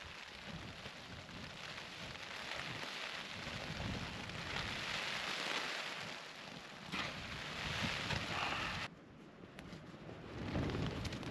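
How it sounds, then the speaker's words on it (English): Steady rain pours down outside during a hike through the Brecon Beacons National Park, a dense, continuous hiss of drops on surfaces that swells and dips slightly over its length, with no voices. "Our rain's coming down outside."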